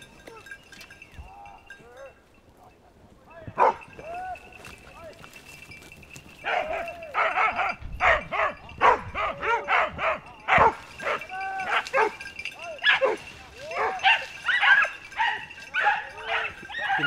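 A hunting dog on a hunt for wild boar outdoors gives a run of sharp barks and yips, sparse at first and then rapid and insistent, while people talk in between.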